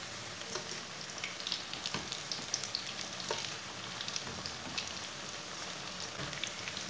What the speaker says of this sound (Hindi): पकौड़ों को 2 मिनट तक पकने देंगे, बाद में इसे उलटाना।